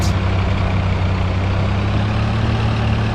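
MLRS launcher truck from the DCS World video game, its engine a loud, steady, low diesel rumble with a constant hum and no break.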